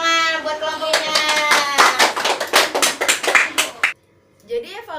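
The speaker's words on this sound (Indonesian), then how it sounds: "Tepuk tangan buat kelompoknya." A classroom of students claps for a group during a lesson, a brisk burst of quick, close hand claps blended with children's voices, ending abruptly before a teacher resumes speaking.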